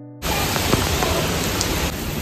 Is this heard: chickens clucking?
no